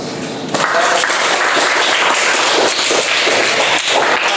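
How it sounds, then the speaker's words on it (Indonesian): Classroom applause for a student group presenting discussion results in a school lesson, a dense steady clapping from many hands that starts abruptly and holds loud throughout. "Oke, jadi kasih aplaus."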